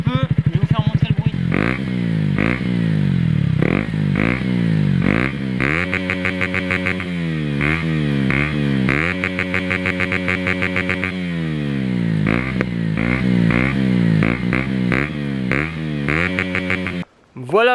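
KTM Duke 125 motorcycle with an aftermarket exhaust, revved repeatedly from idle in a series of rising and falling bursts, loud and close, with a short break near the end.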